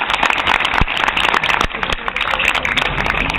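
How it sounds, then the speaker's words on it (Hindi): Dense, steady clapping from a crowd of children at a running training session, loud and continuous throughout with no gaps. "अब ये जो कुछ खा के आए इनके लिए तालियां बजा दीजिए"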